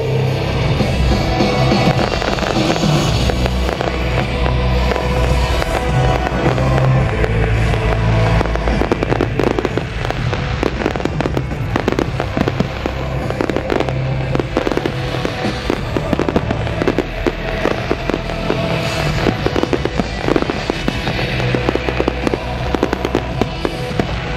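A long, loud fireworks display at Rogny-les-Sept-Écluses, France: continuous dense crackling and booming bursts, one after another, with no pauses and no voices.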